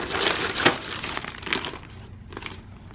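An empty cosmetics packet crinkled and crushed by hand, close and fairly loud, in a few irregular bursts of crackling that thin out toward the end, with no talk.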